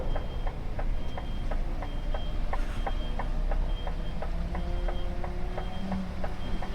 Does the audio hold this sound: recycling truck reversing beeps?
yes